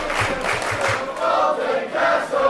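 Wrestling crowd in Edinburgh cheering for Joe Hendry, a dense, steady roar of many voices filling the hall, with a few low thumps early on.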